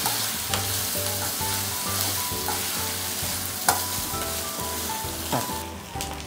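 Leaves fry and are stirred in a pan for boti curry, a busy continuous sizzle and crackle with scraping stirs and occasional sharp knocks of the spoon, close up, over a faint rhythmic musical background.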